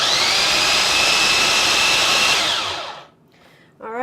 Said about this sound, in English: So we're going to actually puree all of this together.